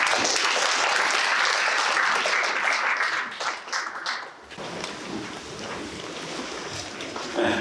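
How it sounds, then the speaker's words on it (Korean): Dense, loud audience applause at a commemoration ceremony for the Battle of Cheongsanri anniversary, a steady wash of clapping that thins and softens partway through. "여러분 큰 박수로 환영해 보시기 바랍니다"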